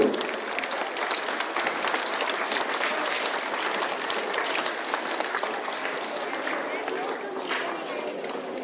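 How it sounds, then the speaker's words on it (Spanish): Strong, steady applause from an audience at a community event in San Juan Chicomezúchil, honoring the participants; dense clapping continues for several seconds at a fairly close, even level with faint voices mixed in. "Vamos a darles un fuerte aplauso a todos los que participaron"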